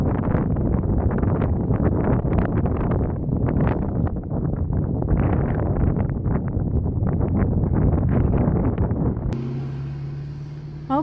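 Strong wind roars and buffets steadily across the microphone at a rugged, rocky beach coastline, a loud continuous rumble that eases near the end.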